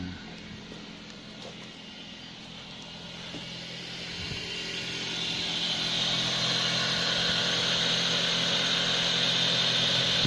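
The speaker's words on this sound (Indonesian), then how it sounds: "Jadi kita hidupkan mesin seperti ini ya." A Toyota Avanza engine idles steadily, its hum growing a little louder and brighter partway through, with no voices.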